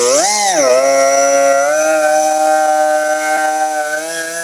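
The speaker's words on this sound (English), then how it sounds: "we're going to sand the front side and do the same procedure to the front side" A power sander works a plastic bumper cover at slow speed, a loud, close motor whine that dips and rises in pitch at the start, then holds a steady, buzzing hum.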